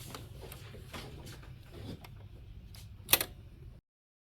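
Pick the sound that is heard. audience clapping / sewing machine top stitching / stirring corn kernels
sewing machine top stitching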